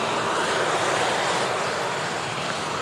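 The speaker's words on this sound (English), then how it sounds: "we had the beautiful Gulf Air Dreamliner taxiing out as well" A Gulf Air Boeing Dreamliner airliner taxiing out at Manchester Airport, its steady jet engine roar loud and continuous throughout, with no voices.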